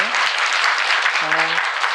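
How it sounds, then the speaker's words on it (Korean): Audience applause at a Korean community book-launch talk concert, a dense steady patter of many hands sustained throughout, with a brief tonal voice or whistle partway through. "박수 한번 주시면 좋을 것 같아요"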